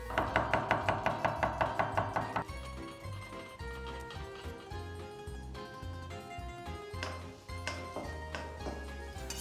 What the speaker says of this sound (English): Chop and add garlic.